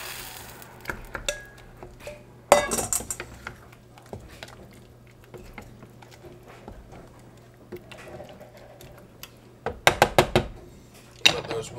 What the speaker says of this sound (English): Put in our tomatoes.